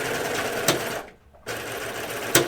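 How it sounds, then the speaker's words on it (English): A serger sewing machine stitches through fabric for a pair of Hudson pants, a steady close whirring run that cuts out briefly midway, then resumes, with a couple of sharp clicks along the way. "I actually want to sew this one on my serger"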